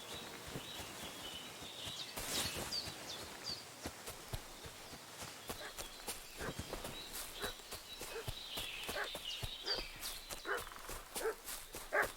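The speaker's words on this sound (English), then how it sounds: "What's that dog making such a fuss about?" A dog barks repeatedly in the Kingdom Come: Deliverance II video game, sharp yelps at mid distance over an outdoor ambience with hoof clip-clops and footsteps.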